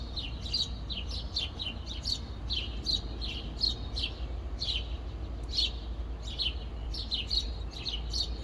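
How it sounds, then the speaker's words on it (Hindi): Birds chirp repeatedly at sunrise in short bright bursts over a steady low background rumble, with no one talking. "ज़रा बाहर का वेदर देखें और साथ ही परिंदों के चहचहाने की आवाज़ें सुनें।"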